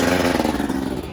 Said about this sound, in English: Here comes the KTM.